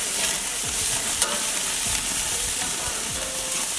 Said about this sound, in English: The beef and everything cooking there